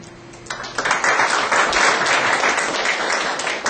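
Applause at a research project workshop as a team member is introduced, swelling in quickly after a quiet half-second and holding as a full, even round of clapping before tapering slightly at the end.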